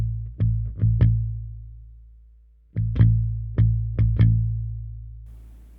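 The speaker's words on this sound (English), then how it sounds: "by placing the side of your hand on the strings near the bridge and plucking the string" Palm-muted bass guitar, the side of the plucking hand resting on the strings near the bridge, gives short thumpy notes with a low sustaining body: three plucks, a pause, then four more, played alone.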